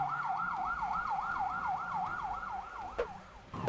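Ambulance siren in traffic in Thailand, a steady rising-and-falling wail repeating about every third of a second at moderate distance over faint road rumble, with a brief thump near the end.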